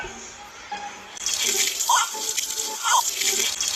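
A game's tap runs for washing, water splashing steadily into a basin after a quieter start, with a few louder gushes, fairly close and moderately loud.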